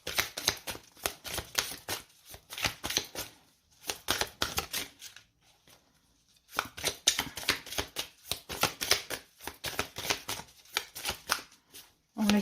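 Tarot cards are shuffled rapidly at close range in a dense, rhythmic run of papery riffles and slaps, with a brief pause before shuffling resumes until a card jumps out.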